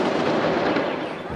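Controlled detonation of explosives by Lebanese soldiers in Beirut, heard as a loud, sustained roar of blast and rumble filling the whole clip with no quiet gaps.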